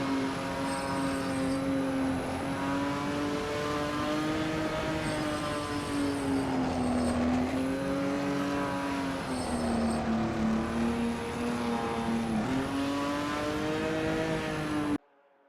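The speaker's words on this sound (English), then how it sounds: "That WSC60 Jaguar XJ13 looks good driving through Porsche curves." A WSC60 Jaguar XJ13 race car in a racing game sweeps through the Porsche curves at Le Mans with a steady, close engine howl that rises and falls with shifts and throttle changes before cutting off abruptly.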